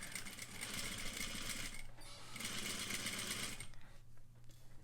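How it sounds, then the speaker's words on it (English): A sewing machine stitches a Peter Pan collar in steady, close bursts of fast mechanical whirring, pausing briefly near the two-second mark before resuming and then stopping near the end. "I'm going to just kind of a little stretch, give that a little stretch as I sew."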